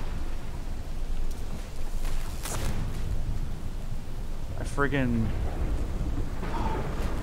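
Lightning strikes and thunder crash in the video game The Cycle, with sharp bursts rising over a rumbling, rain-like wash while a player briefly speaks.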